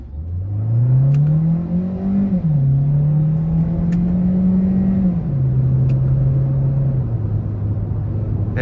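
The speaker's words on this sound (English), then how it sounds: "It just sounds like a 2-liter naturally aspirated 4-cylinder" A 2023 Hyundai Sonata Hybrid Limited's 2.0-liter four-cylinder engine pulls hard in sport mode. It drones loudly and steadily, its pitch climbing and then stepping down at each of several gear shifts, with no voices.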